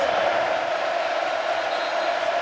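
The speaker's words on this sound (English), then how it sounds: "Crowd now stirring it up." Football stadium crowd at an Alabama Crimson Tide vs Texas A&M game, a loud, continuous wash of crowd noise with a steady roar and no distinct breaks.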